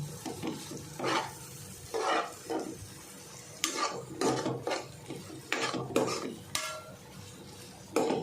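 A spoon stirs and scrapes a dried fish (kolim) pickle mixture in a pan, giving repeated short rasping strokes in an uneven rhythm, close and fairly quiet, with no talk over them.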